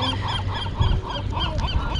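Ducks honking and calling repeatedly outdoors in a city park, a steady series of nasal calls at moderate distance.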